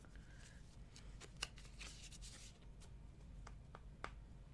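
A deck of playing cards being shuffled, very faint and close, a few soft riffling bursts and light clicks with quiet pauses between them.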